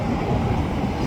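A BNSF freight train rumbles steadily across a bridge, giving a continuous, loud, low roar of rolling cars with no voices.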